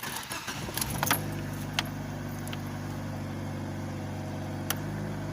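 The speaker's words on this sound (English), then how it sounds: "out of gear, handbrake on, start it up" An ordinary car's engine cranks briefly with some jangling, then catches and settles into a steady, close idle that runs on alone.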